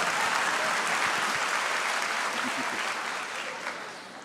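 A church congregation bursts into dense, sustained applause that stays loud for several seconds and then tapers off slightly toward the end, with no voices standing out.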